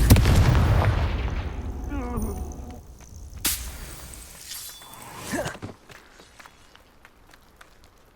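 Confringo fire spell from the Hogwarts Legacy video game: a loud, roaring blast opens, then sharp cracks and whooshing impacts follow a few seconds later before fading out.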